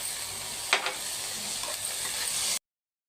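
Soya keema (meal maker mince) with plenty of onion, turmeric and fenugreek leaves fries in a pan with a steady soft sizzle, one brief clatter of stirring partway through, and no voices.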